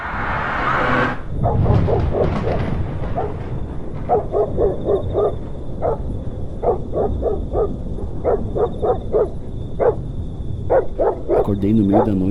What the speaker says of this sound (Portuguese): Acordei no meio da noite com o latido do cachorro.